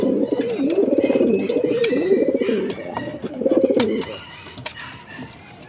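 A racing pigeon coos steadily at the loft's T-trap after returning from a race, its low, rolling calls repeating close by for about four seconds before trailing off, with faint chirps from other birds behind.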